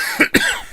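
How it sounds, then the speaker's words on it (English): Two quick, sharp coughs close to the microphone, one right after the other, with quiet around them. "I got a cough again."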